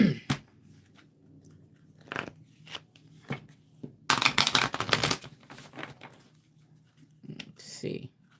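Sacred Soul oracle cards are shuffled by hand in a quiet room, with a dense riffling flurry in the middle framed by scattered soft card taps and shuffles, and a voice speaking faintly at moments.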